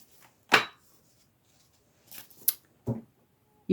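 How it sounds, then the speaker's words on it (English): Ancestor oracle cards are shuffled by hand, a few sharp, close slaps and riffles separated by silent pauses, with no talk. "I want to live shuffle the ancestor card, then we'll get into the oracles."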